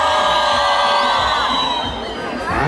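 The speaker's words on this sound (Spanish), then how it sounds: "A ver, regálenme un grito a este lado, a ver qué pasa" A concert crowd at a show in Berriozabal shouts and cheers loudly and continuously, a dense roar of voices with whoops, dipping briefly before swelling again.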